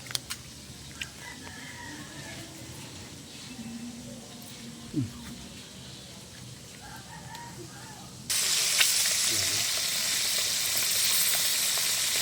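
Moringa (malunggay) leaves frying in hot oil, a steady broadband sizzle that jumps noticeably louder partway through and holds, with a rooster crowing faintly in the background.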